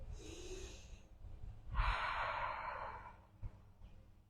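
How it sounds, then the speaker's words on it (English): A slow, deep breath taken during a guided relaxation and fascia exercise: a soft inhale, a pause, then a longer, fuller exhale, quiet and close with no talking. "One last breath."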